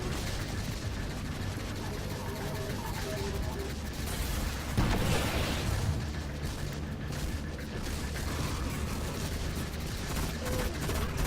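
Enemy gunfire in the video game Destiny during a Nightfall Nexus strike, a dense continuous barrage with a louder burst near the middle, mixed under game sounds and a voice talking.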